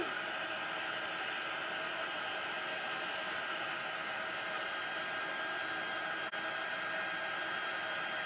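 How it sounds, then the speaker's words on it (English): A heat embossing tool blows hot air onto a stamped card, a steady loud broadband whoosh that runs unbroken for the whole stretch, with only a tiny click near the end. "All right, so we're just going to heat emboss this quickly."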